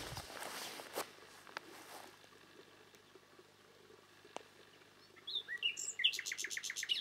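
Birds chirping in a rural village landscape at Okçu Köyü, Kuzalıç: faint scattered tweets early, then a quick run of bright repeated chirps near the end, with soft footsteps and quiet outdoor ambience.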